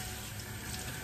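Water runs steadily from a kitchen tap while fish is rinsed during Haitian cooking of bulgur wheat with fish, a constant close splashing rush with no voices.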